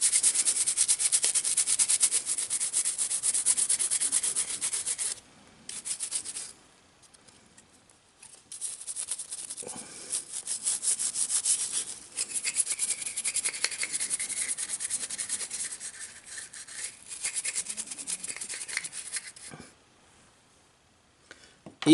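A toothbrush scrubs a NES cartridge circuit board wetted with Windex, giving a close, bristly rasping that runs in bursts with short pauses between strokes.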